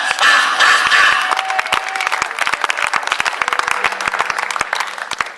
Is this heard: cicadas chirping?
no